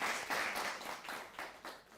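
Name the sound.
applause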